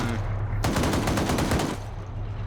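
Rapid automatic gunfire rattles in a military video game skirmish involving armored vehicles, a dense burst of about a second of closely spaced shots over constant engine rumble.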